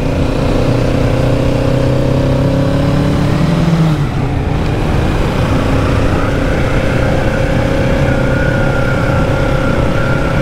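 A 2022 Kawasaki Z650 RS motorcycle engine running at the foot of the Espigoulier mountain road, a loud close drone with rising and falling revs and a brief dip before climbing again, without talk.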